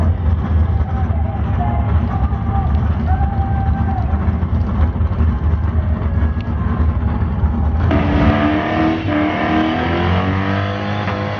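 A Holden ute at a drag strip bounces its engine off the rev limiter in a loud, continuous, harsh roar, with the pitch shifting near the end.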